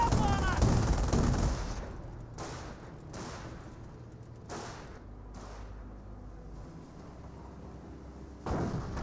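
Machine gun suppressive fire in the Company of Heroes real-time strategy game, a loud burst opening the clip followed by lighter scattered shots and battle noise, with a sharp crack near the end.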